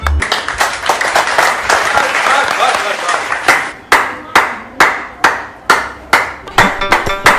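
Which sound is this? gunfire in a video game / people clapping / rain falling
people clapping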